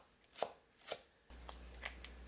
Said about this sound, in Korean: 파 한 뿌리는 쫑쫑 썰어주세요.